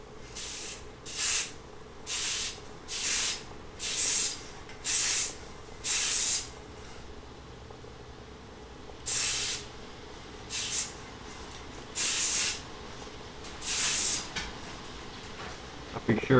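Aerosol primer sprayed onto a Tootsie Toy Mustang toy car after wire-wheeling and washing, about a dozen short hissing bursts of a second or less, close and loud, separated by brief quiet gaps.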